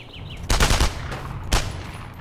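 Gunfire in the video game Enemy Front: a loud, rapid burst of shots, then a second shorter burst about a second later, over a low ambient rumble.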